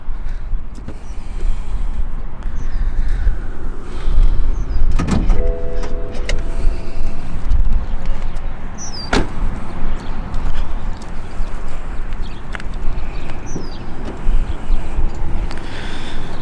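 Hood release and latch of a BMW 435i xDrive pop open in a few sharp mechanical clunks and clicks spread over several seconds, close by, against a steady low hum with no talking.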